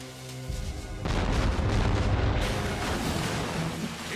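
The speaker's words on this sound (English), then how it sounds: "Fire the cannon!" Cannon fire aboard a ship in an animated 20,000 Leagues Under the Sea film, a loud booming blast that swells into a sustained roaring rumble filling most of the moment.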